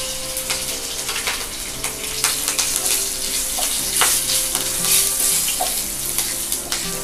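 Mustard seeds and curry leaves tempering in hot sesame oil for onion chutney: loud, dense spitting and popping crackle close by, with scattered sharp pops over a continuous sizzle.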